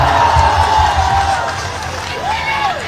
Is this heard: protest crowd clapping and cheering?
yes